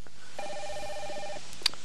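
A phone rings in The Simpsons Hit & Run, a single steady electronic ring lasting about a second, followed by a short bright click.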